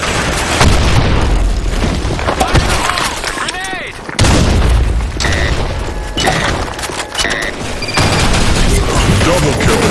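Grenade explosion and gunfire in an online multiplayer shooter game, with loud repeated booms and rapid shots layered over dense battle noise and announcer voices.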